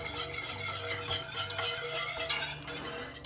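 A utensil stirs a thickening sauce for vegetarian lasagne in a pot, giving steady scraping and swishing strokes in an irregular rhythm, close and fairly quiet, with no voices.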